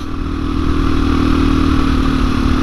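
An uncorked 2021 KTM 500 EXC-F dirt bike engine runs steadily at a close, loud idle with a throbbing, clattery exhaust note that holds even throughout, with no voices over it.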